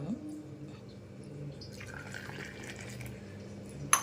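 Tea pours in a steady stream, poured to cool it, swelling midway through and ending with a sharp clink of metal.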